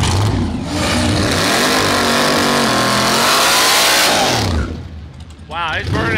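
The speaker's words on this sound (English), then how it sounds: "his burnouts are looking way better" A drag racing car in a 950 index class does a burnout at a drag strip event, with a loud, sustained, roaring engine and screeching tyre noise that rises and then drops away, followed by quieter mechanical sounds and voices.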